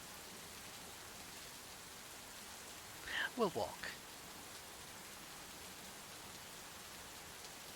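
Steady rain ambience plays as a soft, constant hiss behind a tabletop roleplay session, with a brief spoken line partway through.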